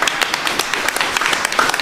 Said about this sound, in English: So clap for your spouse right now.